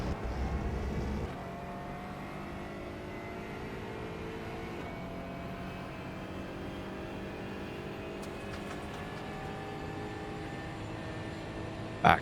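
Aston Martin Vantage GT4 engine under throttle in iRacing, a steady droning rev in third gear held at constant volume after a brief louder burst at the start, with faint tire noise toward the end.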